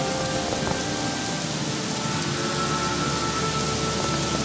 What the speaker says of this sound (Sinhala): අඩෝ වහිනවා